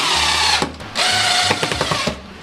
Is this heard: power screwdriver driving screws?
yes